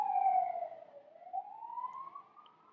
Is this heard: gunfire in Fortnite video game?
no